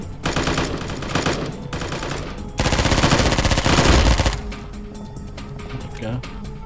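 Bursts of automatic gunfire in the military shooter game Squad, loud and close, with rapid machine-gun fire that swells to a heavier stretch midway before thinning out, under occasional talk.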